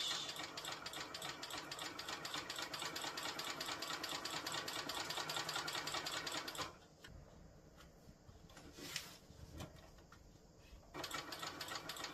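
A sewing machine bastes along the edge of fabric with a fast, steady mechanical whir and ticking needle. It stops briefly partway through and then starts up again, close and loud.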